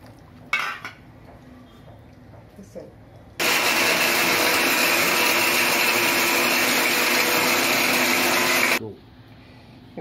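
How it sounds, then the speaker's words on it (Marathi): A kitchen mixer grinder finely grinding whole spices such as cloves, black pepper and stone flower, starting abruptly as a loud, steady whirring roar for about five seconds before cutting off, with faint clinks and a voice before it. "मिक्सरला लावून बारीक करून घ्यायचं."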